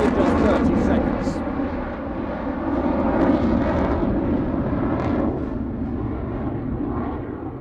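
A Eurofighter Typhoon jet flies at the Farnborough International Airshow, a loud, broad roar that rises and falls slightly as it passes, with an announcer talking over it.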